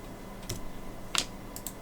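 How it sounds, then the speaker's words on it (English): A few soft, sparse clicks from a computer keyboard, with the shift key pressed while selecting faces in Autodesk Inventor CAD software, heard close and quiet over light room noise. "I keep press the shift key on the keyboard when I select some faces"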